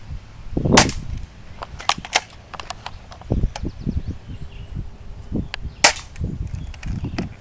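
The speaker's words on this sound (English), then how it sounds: "Shoot the target now." An airsoft gun fires at a target outdoors, several sharp, light snaps spaced irregularly, close and fairly loud.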